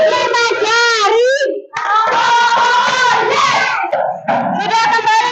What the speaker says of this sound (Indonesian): Ayo, tepuk 5 jari.